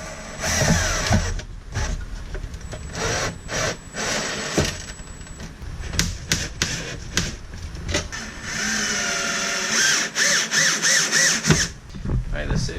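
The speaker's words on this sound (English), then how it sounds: "So now I'm going to put some screws in it to hold the AC unit." A power drill repeatedly revs and drives screws to secure an AC unit in a Sprinter van conversion, with steady loud whirring bursts, short pauses and handling clatter close by.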